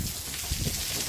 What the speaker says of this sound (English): It's not meant for this kind of rain either.